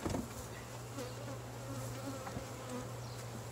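Honeybees buzz steadily around an opened hive during a spring inspection, a continuous close, mid-loud drone with individual bees passing near and away.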